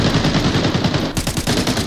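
Rapid automatic gunfire from the video game Arena Breakout: Infinite rattles loud and close, a dense burst of shots that pauses briefly before a fresh volley cuts in.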